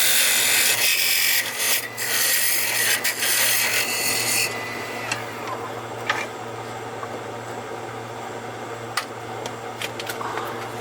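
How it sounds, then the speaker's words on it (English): A box scraper rasps repeatedly inside a cored interior diameter of a giant Lego head, with loud rhythmic scraping strokes at first, then quieter, sparser scrapes over a steady low hum. "I'm going to use a box scraper to enlarge it so that this interior diameter will match the exterior diameter here"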